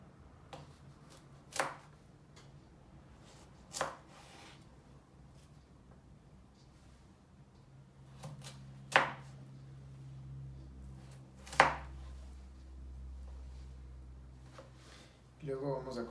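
A knife cuts a carrot into small sticks with a few sharp, well-spaced chops on a board, separated by quieter stretches and a low background hum.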